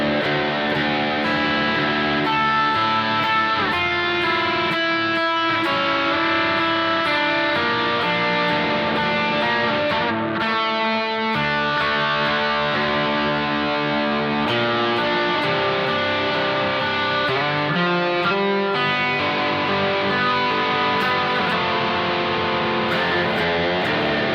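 An electric guitar played clean through a Marshall stack via a Boss GX-10 with delay and reverb, ringing sustained chords and melodic notes with echo trails, loud and continuous with no talk.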